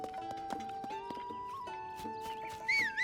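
Horse in the video game Zelda: Tears of the Kingdom, with steady clip-clop hoof sounds and a brief whinny over a continuous tonal game score.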